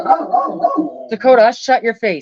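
A pet dog barks in short, loud, repeated bursts at close range, mixed with a person's voice speaking over it.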